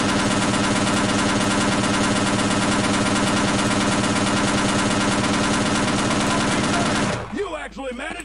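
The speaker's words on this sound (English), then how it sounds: "Oh, they're shooting at us." Sustained, loud machine gun fire from Half-Life: Opposing Force rattles in a dense, continuous burst for about seven seconds, then cuts off abruptly, leaving quieter rumbling and residual noise.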